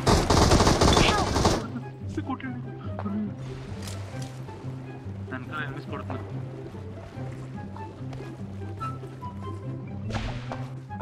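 Gunfire in the BGMI battle royale game: a dense, loud burst of shots at the start, then lighter scattered shots and clicks over a rhythmic background beat, another short burst near the end.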